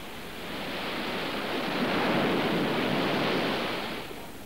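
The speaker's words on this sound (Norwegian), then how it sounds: "Det er sterk storm på havet." Heavy surf and wind from a strong storm at sea pour out as a steady, loud broadband roar that swells toward the middle and eases slightly at the end, with no voices.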